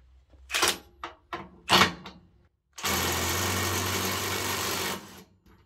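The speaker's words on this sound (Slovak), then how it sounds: "Teraz vyskúšame tie skrutky povoliť." A Parkside Performance PDSSAP 20 Li cordless impact wrench loosening screws: several short bursts of handling noise, then a loud, steady rapid hammering whir lasting about two seconds before it stops abruptly.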